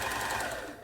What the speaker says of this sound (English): Sewing machine, running nicely there.